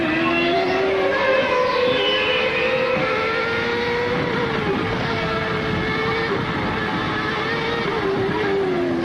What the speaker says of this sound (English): Michael Schumacher on his way to the 2nd intermediate point